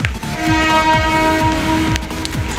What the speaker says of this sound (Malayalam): എന്തായാലും ഇത് ട്രെയിൻ സ്റ്റേഷനാണ്